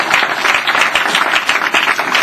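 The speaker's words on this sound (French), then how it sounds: "Applaudissements pour le Seigneur." A church audience applauds, with dense, continuous clapping that stays loud and fairly even throughout and has no voices over it.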